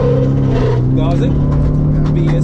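A rally car's engine drones loudly from onboard during a Latvian mini-rally stage, holding a steady, strong tone as the car accelerates, while a co-driver's voice calls notes over it.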